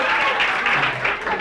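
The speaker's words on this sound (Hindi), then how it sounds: "ज्योति कुमारी के लिए जोरदार हो तालियां" Applause at a school prize distribution for twelfth-grade arts students, a fairly loud, continuous spread of clapping from the audience throughout, with some voices mixed in.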